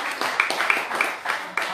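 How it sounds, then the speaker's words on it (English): A small group at a mastermind event claps for everyone present, a sparse run of sharp, close claps in loose rhythm, alone without talk. "Now, clap it up for everybody else that's here too"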